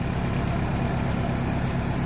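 A 1997 Subaru Impreza WRX STi with a twin-turbo 2.0-liter engine and sport exhaust idles, making a steady, close, even drone with no variation.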